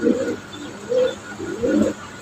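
Fancy pigeons, a running pair of foreign breed, coo in three low, throaty phrases close by, evenly spaced with short pauses between them.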